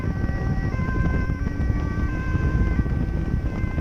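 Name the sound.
siren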